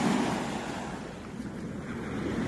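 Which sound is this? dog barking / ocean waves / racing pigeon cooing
ocean waves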